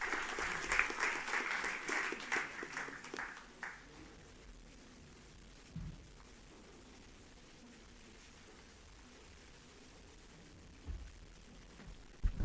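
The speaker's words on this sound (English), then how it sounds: "Ladies and gentlemen, please put your hands together for a warm applause." An audience at a Universal Brotherhood Day event gives a speaker brief, faint applause, a scattered clapping burst that fades within a few seconds and leaves quiet room noise with occasional thumps.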